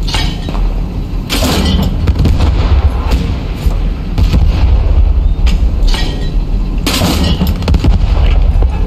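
Mortar rounds firing and bursting in a video game, heavy booming blasts with rumbling tails coming one after another across the whole stretch, loud and close, with no talk over them.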